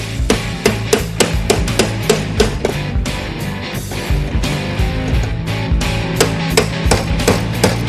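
A brass tool repeatedly tapping a ring into place on a hot rod body in a garage, with sharp, loud metallic knocks in quick irregular bursts over a low background hum.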